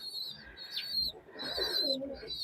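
Pakistani highflyer pigeons in a loft give soft, low cooing calls in short bursts over a steady high-pitched chirping background, fairly faint and close.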